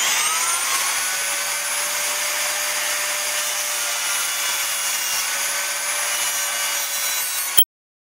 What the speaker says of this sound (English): I like to use an abrasive wheel just to make an initial rough cut down.